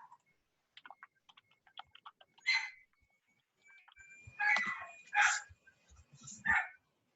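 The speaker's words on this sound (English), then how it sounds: "Who's got the puppies? That's my sister's dog." A dog barks in the background during an online meeting: four or so short, fairly loud barks in the second half, after a stretch of faint small clicks and taps.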